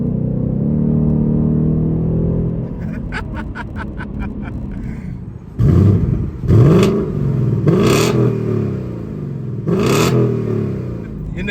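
A 2022 Mustang GT's naturally aspirated 5.0 V8 idles with a deep burble, then blips and revs loudly four times, each rev rising and falling back, recorded up close.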